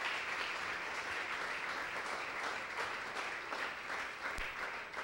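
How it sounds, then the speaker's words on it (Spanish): A church congregation claps steadily in sustained applause at a Shabbat service, a dense, continuous wash of many hands filling the space with no break. "¿Cuántos aplauden al Señor?"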